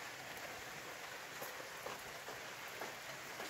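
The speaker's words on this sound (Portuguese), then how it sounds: "bastante chuva aqui hoje" Steady rain falls on a dry rural countryside on a summer morning in the interior of Paraíba, Brazil, a constant even hiss of drops on surfaces with faint individual splats, with no one speaking.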